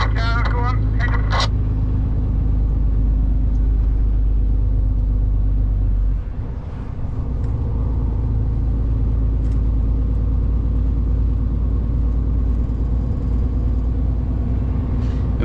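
A 44-ton truck hauling a Komatsu D65 dozer on a wide-load delivery drones low and steady as it climbs a wet road, a deep continuous engine rumble with brief voices early on.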